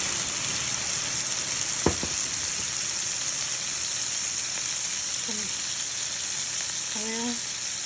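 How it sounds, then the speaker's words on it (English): Tomatoes sautéing in oil in a pan, a steady close hiss of sizzling throughout, with a sharp knock and a few brief tonal squeaks from stirring partway through, no talk. "So now I'm sauteing the tomatoes."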